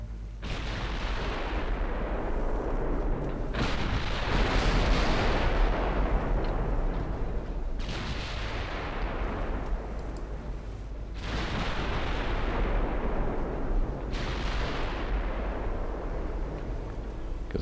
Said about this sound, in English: And I want you to start firing AP.